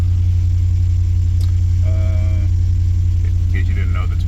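A Hemi-powered Ram truck engine, towed in with a fault, idles with a loud, steady low rumble throughout, close by, with faint clicks and a brief higher tone over it.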